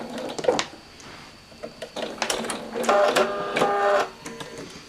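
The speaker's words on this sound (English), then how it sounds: "Now I'm going to do a little back stitch at the end just to make sure that that end is secure." A sewing machine runs a short back stitch at the end of a seam, giving a loud, close, uneven run of mechanical whirring and clatter with brief pauses and changes of speed.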